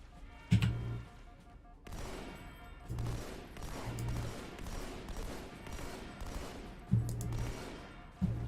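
Sergeant Johnson fires a weapon in Halo 2, heard as bursts of gunfire in several short volleys spread across a busy battle din.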